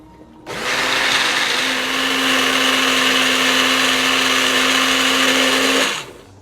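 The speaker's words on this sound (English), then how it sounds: "We just put it in a little mini food processor before I add those back in to start adding in beans" A small mini food processor whirs loudly as it blends chipotle chilies, revving up abruptly, holding a steady high-pitched motor drone for about five seconds, then spinning down and stopping.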